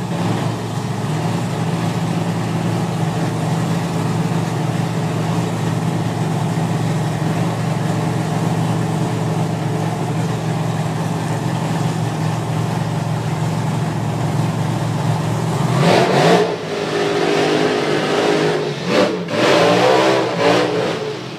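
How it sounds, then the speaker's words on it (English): Drag racing cars at a racing event idle and rumble steadily for a long stretch. Near the end comes a burst of loud engine revving with sharp rises and falls in pitch. No one talks. "drive over the burnouts completed, both going into pre-stage, the Haberman boys."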